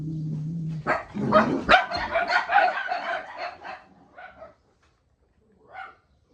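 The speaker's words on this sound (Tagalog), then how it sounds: "Gulo ng mga tuta naman. Natapang aso namin, kahit malilit." Small puppies barking in excited, overlapping yaps close by, a busy burst for about three seconds that trails into a few scattered yelps, with a low hum beneath at the start.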